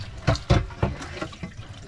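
Salt water foot pump on a small sailboat at anchor, rinsing dishes: rhythmic gushes of water pulse out about three times in quick succession, then taper into gentler splashing and dripping.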